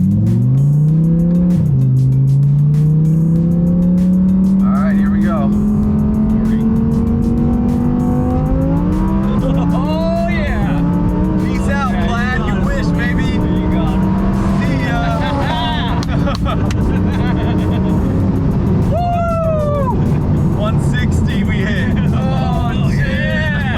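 Audi R8 tuned to 1,050 horsepower drag racing a 1,000-horsepower Tesla Plaid on a track: loud, close engine revving that climbs steadily through gears across the whole run, with crowd babble and voices underneath.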